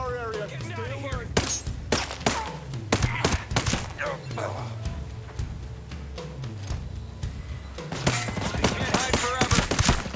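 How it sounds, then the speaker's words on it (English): Rapid bursts of automatic gunfire from an LMG and other weapons in the tactical shooter Breakpoint, loud and dense with sharp repeated cracks and thumps, mixed with game background and occasional talking. "Oh, I'm also shooting at you."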